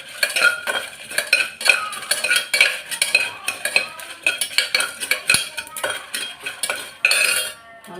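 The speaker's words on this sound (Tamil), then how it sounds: "இதெல்லாம் போட்டு நல்லா வறுத்துக்க போகிறேன்." Fennel seeds and spices, with pepper among them, are dry-roasted in a pan while a metal spoon stirs and scrapes them in quick, busy, uneven strokes, close and loud with no talk.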